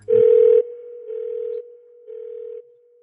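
An outgoing phone call's ringback tone plays on its own: a steady electronic hum repeating in evenly spaced pulses, loud and clean, with a brief voice at the very start.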